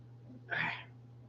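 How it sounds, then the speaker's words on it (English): A single close sneeze bursts out about halfway through, short and forceful, over a steady low electrical hum with no other sound. "Gotta sneeze again."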